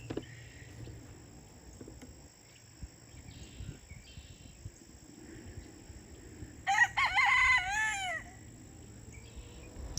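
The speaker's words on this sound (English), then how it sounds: "That's the little tiny rooster." A tiny rooster crows once, a fairly near, strained call lasting over a second, rising out of quiet outdoor garden ambience with faint insect hum and no talking.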